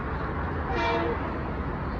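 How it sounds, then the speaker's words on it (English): A commuter train approaches along the New Haven Line at Larchmont station, its rails giving off a steady hissing sizzle under a broad rumble, with a brief faint tonal chirp from the overhead wires in the middle. "You can hear the track sizzling."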